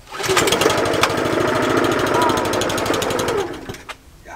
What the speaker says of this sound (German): Mähen im Winter.